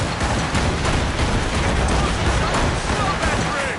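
Naval cannons firing during a ship battle in Assassin's Creed Rogue, merged into a dense, unbroken roar of blasts and battle noise, loud and close, with shouting voices buried in the din.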